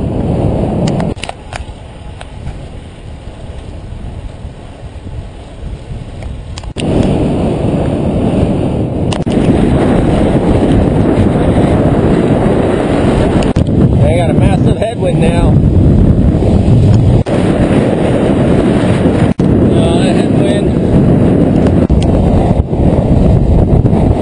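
Strong wind roars and buffets across the microphone of a cyclist riding a freshly paved road on Mt Hamilton at speed, a loud continuous rush that grows heavier after the first few seconds.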